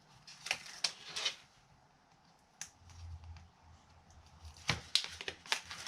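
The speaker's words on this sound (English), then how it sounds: "So I am going to peel away that backer." Adhesive tape backing is peeled away while making a purse from dollar store placemats, heard as sharp ripping crackles and clicks in short bursts with quiet pauses between.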